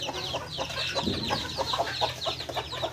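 A mother hen clucks softly and repeatedly beside her chicks inside a cardboard carton, with faint peeping in a quiet, close setting.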